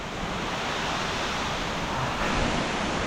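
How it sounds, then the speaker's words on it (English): Love Waterfall in Hoang Lien National Park near Sapa roars as a steady broadband rush of falling water, loud and unbroken throughout. "that's a waterfall"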